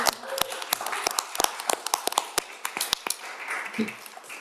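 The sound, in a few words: round of applause at a council meeting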